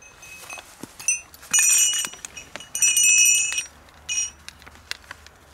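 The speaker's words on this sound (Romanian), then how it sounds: "Sunt clopote vechi, cum mai era odată." Old traditional bells worn by horses on a farm in Sălaj, Romania, jingle in several short bright bursts with quiet gaps between, moderately near and without talk.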